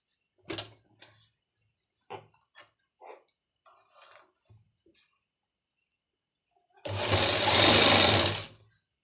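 A sewing machine stitches a circular palazzo seam, heard as one loud continuous whirring run of about two seconds near the end, after a stretch of light handling clicks and rustles.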